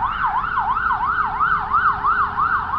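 An ambulance siren wails on a city street in Łódź, Poland, a loud, close, rapidly rising and falling yelp repeating steadily over low traffic rumble.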